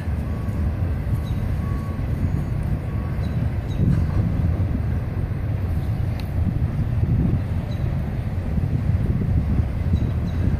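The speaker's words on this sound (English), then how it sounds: "Got an intermodal going underneath us here." An intermodal freight train rolls beneath a footbridge, its steady low rumble and wheel noise sustained and fairly loud throughout, with some wind buffeting the microphone.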